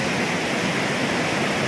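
Steady, powerful roar of rushing water pours from Bolinao Falls, a dense broadband wash with no pauses, close and loud throughout.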